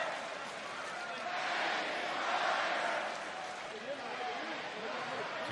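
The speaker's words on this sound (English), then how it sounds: "You can hear the crowd picking up" A large wrestling arena crowd roars as a broad, steady wash of noise that swells in the middle and then settles, with commentary voices heard over it.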